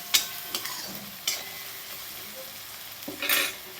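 Potato curry masala seasoned with homemade red chili powder is stirred in a pan: a spoon scrapes and clacks against the metal in a few sharp strokes over a low, steady sizzle, ending in a louder burst of stirring.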